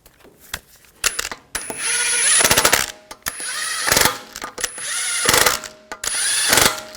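Lug bolts on a 2004-2009 Audi A4 Quattro wheel are run down by a pneumatic impact tool in several loud, rapid hammering bursts, separated by brief pauses with metallic clinks and a thin high whine.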